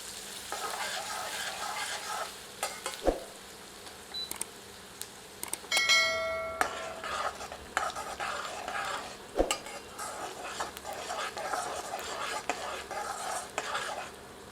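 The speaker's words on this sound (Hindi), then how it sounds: "अब चॉप्ड अनियन ऐड करते हैं। इसे मीडियम फ्लेम पर फ्राई करते हैं जब तक कि अनियन गोल्डन नहीं हो जाती।" Chopped onions fry in oil over a medium flame for aloo palak, giving a soft continuous sizzle broken by sharp clinks of a utensil on the pan and a brief burst of rattling scrapes.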